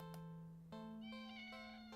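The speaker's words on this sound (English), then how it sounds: "the cat meows almost pitifully at you" A cat meows pitifully in a video game, a few drawn-out tonal cries in quick succession, fairly faint and alone with no talk over them.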